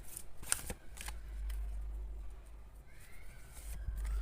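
Tarot cards being shuffled by hand before an advice card is drawn, with a few crisp riffling bursts over a low steady hum, close and without talk.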